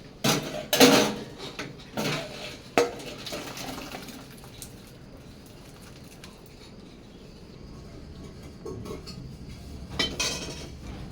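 A pot of freshly cooked ghugni comes off the stove with a few sharp metallic clanks and clinks up close, then a quieter stretch of low kitchen noise and a last clatter near the end.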